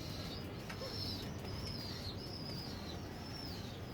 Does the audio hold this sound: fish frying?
no